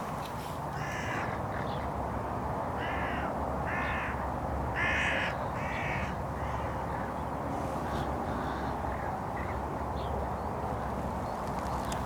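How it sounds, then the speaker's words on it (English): Hooded crows caw repeatedly near a dunghill, harsh calls arriving in short bursts of two or three over a steady wash of outdoor background noise, with no talking. "Oh, looks like the hooded crows have taken an interest again."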